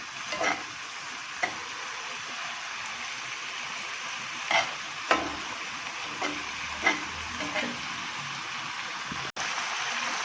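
Tandoori pasta ingredients cook in a pan over a medium flame, with a soft, steady sizzle and occasional sharp stirring clicks and scrapes.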